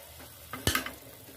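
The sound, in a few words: stirring fish curry with tamarind water in pan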